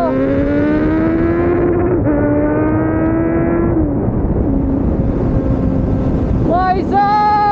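A Kawasaki Z900 engine drones loudly on the move, its pitch climbing steadily through gears with brief dips at each shift, ending in a few sharp revs and rising whines.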